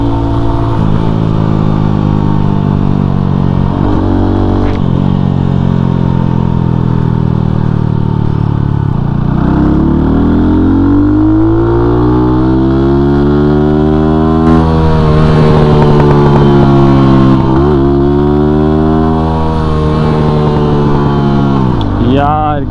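A Lifan KPR 200 motorcycle exhaust drones continuously on a ride, the engine pitch climbing and dropping through gear changes and throttle sweeps, close and steady, while the rider talks over it.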